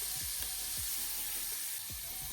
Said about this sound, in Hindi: अच्छे से चिकन को मिक्स करेंगे हाई फ्लेम पर।